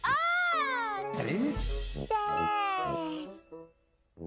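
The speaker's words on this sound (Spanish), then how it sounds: "Gato." A cat gives a couple of drawn-out, wavering meows, loud and close, followed by softer chirping sounds before it trails off.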